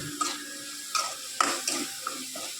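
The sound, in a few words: frying ginger, garlic, cumin and onion masala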